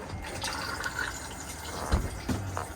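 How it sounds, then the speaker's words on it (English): A motorhome cassette toilet in an Elddis Autoquest 140 flushes, with a short rush of water filling the bowl, a few faint splashes and gurgles, and a slightly stronger surge near the end, heard close and alone. "Once you've used the toilet, give it a flush"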